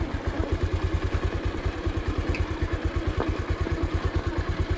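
A motorcycle engine chugs with a fast, steady low pulse as it travels a very rough, difficult mountain road at night, with faint clattering over the close engine rumble.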